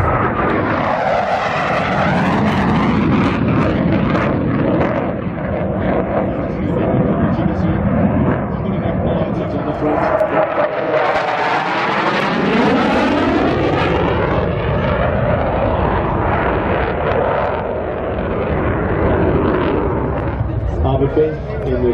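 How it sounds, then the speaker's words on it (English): A Denel Cheetah C fighter jet of the South African Air Force makes a high-speed pass at an air show, with a loud, sustained roaring engine that sweeps through a Doppler shift as it passes, while an announcer speaks over a public address system. "Aircraft accelerating now through 520 knots."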